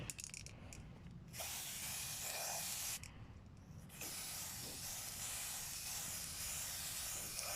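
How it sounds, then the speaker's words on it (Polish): Aerosol spray paint hisses from a can in bursts while an eye shape is drawn on a wooden board, with long loud sprays broken by short pauses and a quieter stretch near the start. "To jest słabe oko tym sprayem."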